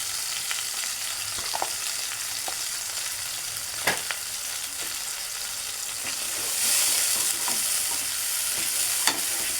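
Ground spices with turmeric, salt, cumin and water-soaked Kashmiri red chilli sizzle and fry in a pan for a Bengali fish dish, a steady close hiss with occasional scraping stirs and no talking.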